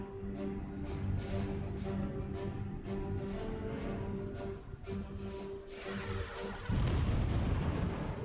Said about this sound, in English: our defense turrets have been destroyed